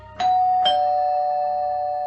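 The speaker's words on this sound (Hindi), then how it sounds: "सुबह दरवाजे की घंटी बजी" A two-tone doorbell chime rings once, ding then dong, with the second note lingering and fading slowly in a quiet room.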